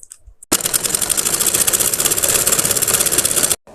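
A sewing machine runs steadily for about three seconds while stitching the side seam of a garara, with a fast, even mechanical whir that starts and stops abruptly, close and loud.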